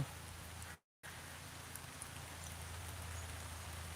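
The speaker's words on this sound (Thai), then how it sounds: "ฝนตก" Steady soft rain falls at a Thai temple garden, a faint even hiss throughout the short stretch, briefly cut to silence near the start.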